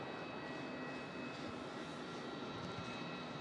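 A steady, continuous roar of aircraft engines fills the scene at Melbourne Airport, moderately distant and unchanging throughout, with no voices.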